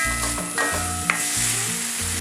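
A spoon stirs Kerala-style banana stem pickle with asafoetida in a pan off the heat, giving a steady scraping, sizzling churn in uneven strokes beneath a low tonal hum.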